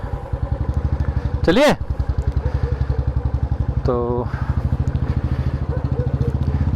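A Bullet motorcycle engine idles steadily after being started, a close, even thumping pulse running throughout, with people talking briefly over it.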